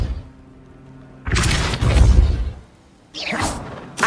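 Depulso spell cast in Hogwarts Legacy: a sudden forceful whooshing burst with a thudding impact, followed by a second shorter swish, separated by near silence.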